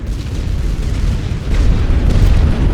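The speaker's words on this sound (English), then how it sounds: "lots of artillery is now going to go down" Artillery barrages in The Great War: Western Front, a dense, continuous rumble of booming explosions, loud and close, swelling heavier in the second half with no let-up.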